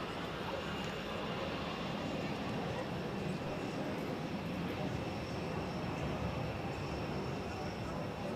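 EasyJet airplane at Zurich Airport, heard as a steady, broad jet engine roar from a distance that holds constant throughout with no clear rise or fade.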